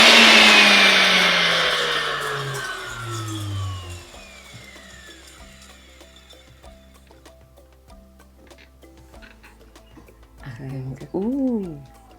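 Blender grinding food into powder, a loud whirring motor that winds down over about four seconds, leaving quiet ticking and hum, then a brief rising whine near the end.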